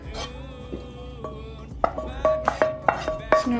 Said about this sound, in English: Put my feta up into little pieces. Like this. I don't need the cheese to melt or anything, just mixing it up.